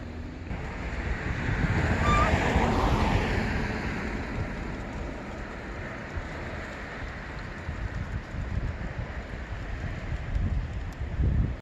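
Sea waves wash against the shore at the seaside near a lagoon along a coastal walking trail on Korea's east coast, a steady broad surf roar swelling early and then holding, with wind noise on the microphone and no voices.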